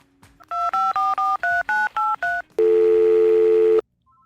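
A telephone keypad plays eight quick touch-tone beeps in an even rhythm, followed by a longer steady tone about a second long before it cuts off. The sound is loud and clear, with no talking.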